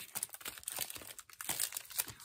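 Plastic sticker packets handled up close, giving a dense, continuous crinkling and rustling with sharp bursts throughout and no talk.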